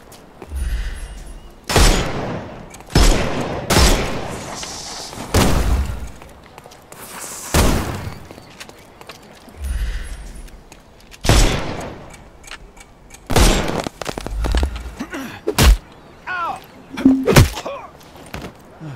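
Loud, close gunshots ring out in the Sherlock Holmes video game, a dozen or so sharp bangs in irregular bursts with short gaps between them.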